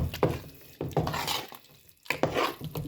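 Smoked fish being stirred and mixed in a pot, with three bursts of scraping, clattering utensil strokes against the pot separated by brief pauses, close and moderately loud.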